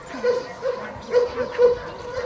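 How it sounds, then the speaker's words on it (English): Fire service search and rescue puppies barking, giving three short yipping barks spaced about half a second to a second apart, fairly close and moderately loud over a faint background. "Here are the fire service's search and rescue dogs."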